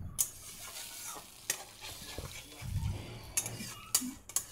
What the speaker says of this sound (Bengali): আমি এখানে এখন আরেকটু ভালো করে লাড়াচাড়া করবো, মশলাটা কষাবো। তো এখানে একটু জল দিয়ে দিলাম